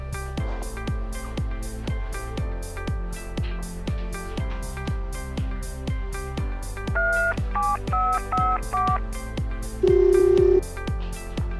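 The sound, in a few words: telephone dialing and ringing before a call is answered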